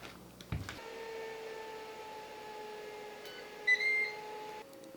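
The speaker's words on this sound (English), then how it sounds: "Foodi beeps, so it must be done." A Ninja Foodi OL701 steam-and-bake oven sounds a steady electronic tone when finished baking a marble cake, with a brief higher beep layered partway through and a click at the start, quiet and alone.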